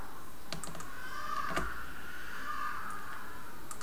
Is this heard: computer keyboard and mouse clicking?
yes